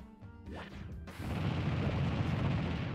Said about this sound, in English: glass breaks on his helmet there